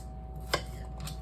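A knife cuts through apple on a board while dicing it into small pieces for muffins, a single crisp close chop over a low steady background hum.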